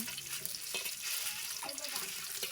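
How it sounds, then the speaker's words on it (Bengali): Eggs fry in salted oil in a wok with a faint, even sizzle and occasional light stirring sounds throughout. "কড়াই ডিম দিয়ে দিয়েছি ডিমগুলো আমি ভালোভাবে বেছে নেব"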